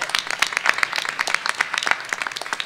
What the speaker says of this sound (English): Let's give this risk taker a loud round of applause.